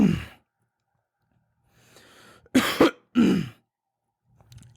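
A few short, close coughs and throat-clearing bursts separated by silence, with a breathy exhale at the start.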